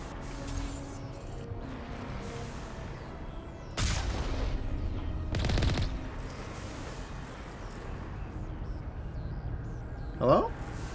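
Gunfire in Mass Effect 1 during a combat standoff, a few loud bursts of shots over steady game ambience, with a voice talking intermittently throughout.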